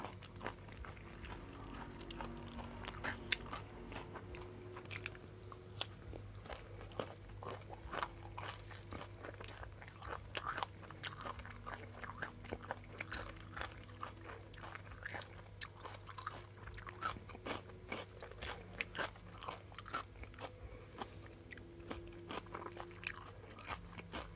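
Nem nuong eaten with raw banana and fresh vegetables, heard as quiet, close, repeated bites and moist chewing crunches spread unevenly over a long stretch, with a faint steady hum beneath.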